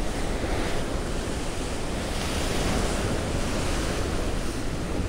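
Rough sea surging against rocks along a rocky fishing shore, a dense, continuous roar of surf mixed with wind buffeting the microphone.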